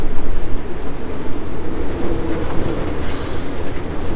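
A strong wind gust of around 35 to 40 knots sweeps across an uninhabited tropical atoll, a loud, steady broadband roar like rushing surf that surges and ebbs over a few seconds, with no voices.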